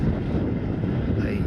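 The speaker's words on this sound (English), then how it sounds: "Quite a windy afternoon here." Wind buffeting the microphone on a windy afternoon at the Murray mouth by a sand spit, a loud continuous low rumble without breaks.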